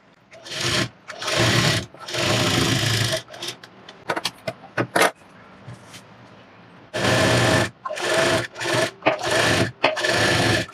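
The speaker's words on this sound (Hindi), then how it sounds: "पहले मैं सिलाई लगा लेती हूँ, उसके बाद इसकी कटिंग करूंगी" A sewing machine stitching bridal blouse fabric runs in several loud, steady bursts of whirring, broken by pauses with light handling clicks and rustles, close up and without speech.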